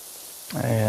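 Pressure washer spray from PowerWash Simulator 2 kicks in halfway as a sudden broadband hiss with a steady tonal hum, following a brief quiet start, loud and continuous to the end.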